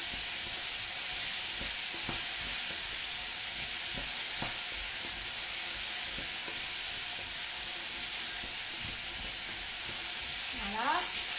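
Vegetables for vegetarian lasagne sizzle and fry steadily in a pan, a loud continuous hiss with faint scraping from stirring throughout, and a brief voice near the end.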